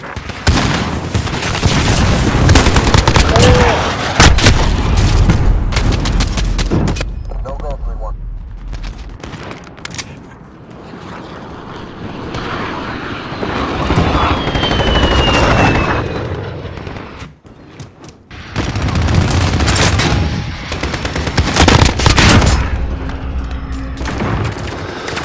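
Heavy aircraft gunfire called in as air support in Call of Duty: Modern Warfare, loud booming bursts and rumbling impacts that rise and fall over about twenty-five seconds amid dense battle noise.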